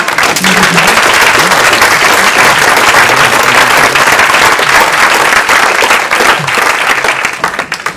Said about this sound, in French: Et puis, oui, vous pouvez applaudir.